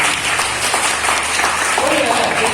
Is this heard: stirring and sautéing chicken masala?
no